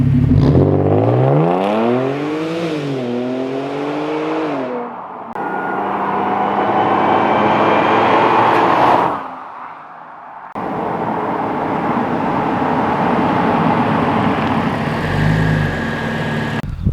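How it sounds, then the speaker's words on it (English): A supercharged V6 car accelerates hard with a rising, revving engine note that climbs through the gears, then keeps driving with a steady loud engine drone and a brief dip between pulls. No one talks. "it's a big lump of a V6 with a supercharger"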